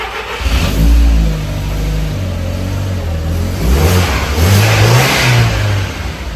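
An Audi TT with a suspected fuel-pressure fault starts up and revs unevenly, its engine loud and close, rising and falling in a couple of rough surges with no talking over it.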